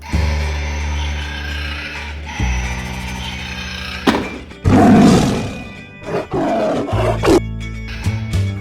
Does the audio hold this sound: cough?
no